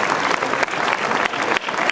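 Audience at a grape fair prize ceremony in Novelda applauds the winner of the 2015 Raïm d'Or award, a dense, steady burst of many hands clapping close and loud, with brief dips in intensity.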